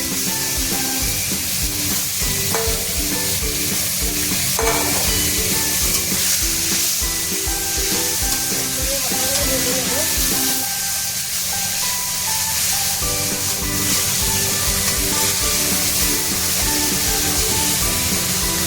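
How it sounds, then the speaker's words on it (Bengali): Mutton fat sizzles and fries steadily in hot oil in a pan, a dense, continuous crackle and hiss that stays loud and close throughout, with occasional stirring and no talking. "আমি খাসির তেলটা একটু ভেজে নেব"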